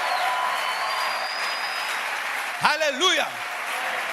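A church congregation applauds steadily during a worship service, the clapping filling the room throughout while a voice cries out briefly near the end.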